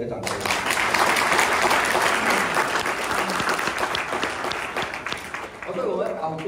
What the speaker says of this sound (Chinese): 给你们自己本身一个掌声